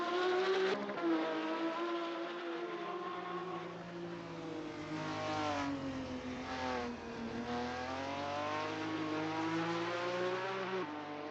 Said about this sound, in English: Got to admit, the noises of these cars are fantastic.